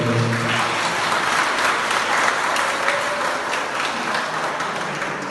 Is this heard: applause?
yes